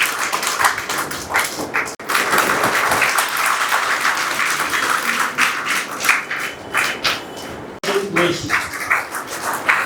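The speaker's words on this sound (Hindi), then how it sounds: "तालियां बजाइए।" An audience claps steadily through a Muslim Friends Society annual award ceremony in Nagpur, sustained applause with two brief breaks, a voice faintly under it.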